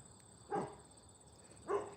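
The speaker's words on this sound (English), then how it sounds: "That's my dogs barking." Dogs barking in the woods: two separate bark bursts, about a second apart, fairly distant and moderately loud over a quiet outdoor background hiss.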